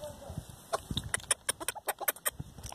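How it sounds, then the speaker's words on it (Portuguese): A small bantam rooster clucks in a quick run of short, sharp calls to a hen, fairly close, with a busy background beneath. "Ele tá chamando a galinha."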